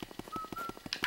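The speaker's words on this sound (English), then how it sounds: "Is that Luigi whistling?" A short, faint whistled tune from Luigi in the video game Luigi's Mansion, one sustained whistle note over a soft rhythmic pulse of game music, ending in a brief higher chirp.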